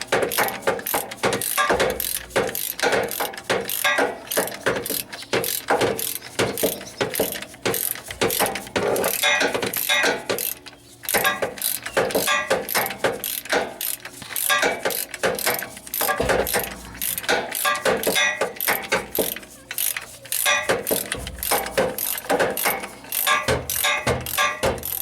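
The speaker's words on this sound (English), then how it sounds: "I have a long wrench on here, so but I have a lot of room to work" Rapid ratcheting clicks from a long ratchet wrench turning a rear control arm bolt on a Suzuki Sidekick, a continuous close, busy metallic chatter with a brief pause midway and no speech.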